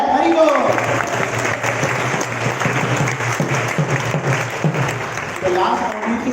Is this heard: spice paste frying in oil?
no